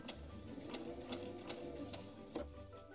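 A sewing machine stitches quilt seams on Dresden plate pieces, humming steadily with regular, sharp needle clicks repeating about every half second, close and fairly quiet.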